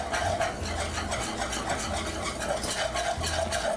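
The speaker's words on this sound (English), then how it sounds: "I mix this up until it's all completely dissolved, the flour." Flour is whisked into hot melted butter in a pan, with a steady rhythmic scraping stir over a continuous sizzle, close and fairly loud.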